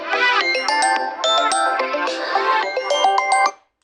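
Mobile phone ringtone playing a bright, loud electronic melody of quick chiming notes for several seconds, then cutting off abruptly, with no voices over it.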